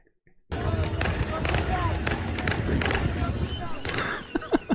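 Celebratory gunfire in the streets of Syria as rebel supporters cheer, heard as a continuous crowd roar with scattered sharp cracks and pops, some closer and louder toward the end.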